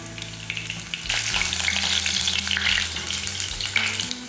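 Ginger and garlic hit hot oil in a pan for an egg gravy, setting off a loud, close, crackling sizzle that swells after a brief quieter start and then holds steady, with no talking.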